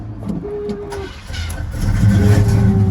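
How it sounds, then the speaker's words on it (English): A Box Chevy car engine cranks and catches, a low starter whir giving way to a rising idle that grows louder and steadier toward the end, with no talking over it. "I'm about to crank this thing up"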